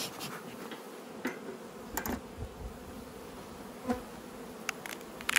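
Honey bees buzz steadily around opened hives during a winter honey harvest, a close, continuous drone with occasional nearer passes and light clicks of handling, with no talk.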